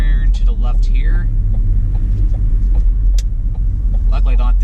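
A car drives along a residential street in Royal Oak, Michigan and makes a left turn, giving a steady low road and engine rumble inside the cabin throughout, with someone talking over it.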